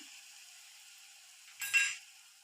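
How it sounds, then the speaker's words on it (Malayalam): Crushed spices for drumstick rasam hit a hot pan, giving a soft steady sizzle that swells into a brief louder burst of frying and stirring near the end. "അതിനുശേഷം നമുക്ക് ചതച്ച് വെച്ചിരിക്കുന്ന ഐറ്റങ്ങൾ ഇതിലേക്ക് ഇട്ട് കൊടുക്കാം അപ്പോൾ ഇതിൻ്റെയൊക്കെ ഒന്ന് ഒരു പച്ചമണം ഒന്ന് മാറുന്നത് വരെ നന്നായിട്ട് ഇതൊന്ന് വഴക്കിയെടുക്കണം"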